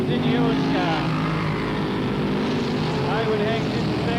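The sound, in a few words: sprint car engine screaming during race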